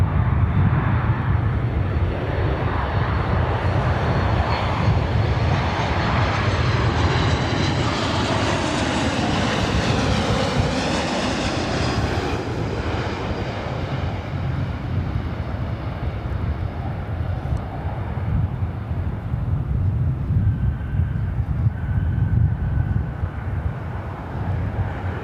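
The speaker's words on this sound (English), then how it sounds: "up next is at Air Canada. It's like 554, 737 MAX 8" An Air Canada Boeing 737 MAX 8 jet roars past close by at LAX, its loud engine noise swelling and sweeping in pitch around the middle before settling into a steady rumble.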